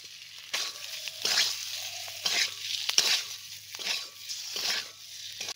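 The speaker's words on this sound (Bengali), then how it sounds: "এবার দিয়ে দিচ্ছি ভেজে রাখা পটলগুলো।" Pointed gourd fries in a pan with ginger, cumin and salt, a soft sizzle broken by several scraping stirs of a spatula at close range, with no talking.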